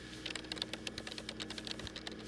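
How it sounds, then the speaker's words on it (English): Rapid typing on a computer keyboard, a steady close patter of quiet key clicks running throughout. "Joe's fingers are flying across that keyboard."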